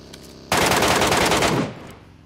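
Sustained automatic gunfire in a video game, a loud, close, rapid stream of shots lasting about a second before cutting off into a short decaying tail.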